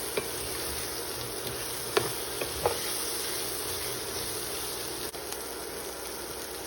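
Shrimp with onions and chilies sautes in a pan for spicy yaki udon, a steady sizzle with a few soft clinks and stirring knocks, close and unaccompanied by voices.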